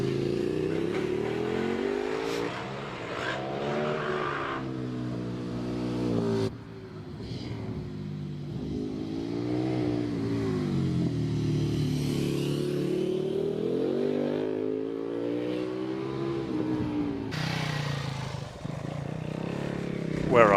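A KTM motorcycle racing up the Prescott hill climb course: a loud engine rising and falling in pitch through repeated gear changes and throttle surges, with a commentator talking over it.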